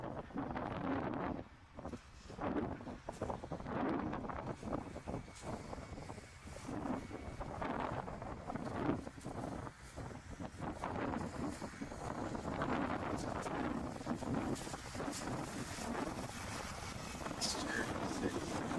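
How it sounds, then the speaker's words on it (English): Wind gusting across a microphone outdoors at the Oshkosh airfield beside runway 36, a loud, buffeting rumble that rises and falls, with a distant aircraft drone and people talking underneath. "get the wind out here and a little bit of dust."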